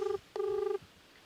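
Telephone keypad tones from a phone being dialed to place a call: two short, loud DTMF beeps, the first brief and the second held longer, with quiet room tone after.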